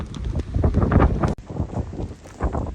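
Strong wind buffets a rooftop in a village, roaring in loud irregular gusts across the microphone with a brief drop midway, and no talking.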